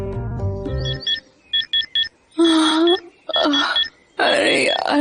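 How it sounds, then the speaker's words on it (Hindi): An irritating alarm clock sounds in a short run of electronic beep bursts, with voices speaking before and after the beeps. "ऊपर से इरिटेटिंग अलार्म"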